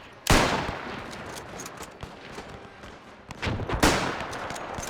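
Rifle volleys in the WW1 video game Between Empires: two loud, sharp gunshot blasts, each trailing into a rumbling echo, with scattered fainter distant shots between them.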